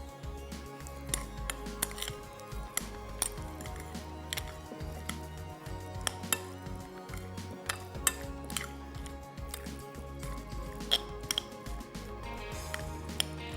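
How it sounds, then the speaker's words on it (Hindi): Salad being tossed in a bowl, a steady run of light clinks, taps and soft squishy stirring sounds, close and fairly quiet, with no talking over it. "मिक्सिंग करेंगे और हमारी सैलेड जो है वो तैयार हो जाएगी।"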